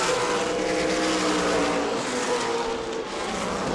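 Super late model race cars roar around the track at the Governor's Cup Super Late 200, a continuous loud engine drone with shifting pitch as cars pass, no talking over it.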